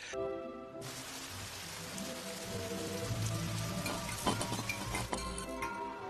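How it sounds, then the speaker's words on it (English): Heavy rain pours down outside during a storm, a dense steady wash of drops spattering on surfaces, with a few sharper clinks and splashes standing out near the end. "occasionally watching the heavy rain pour down outside"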